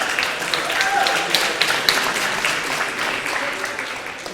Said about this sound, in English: give Risu a round of applause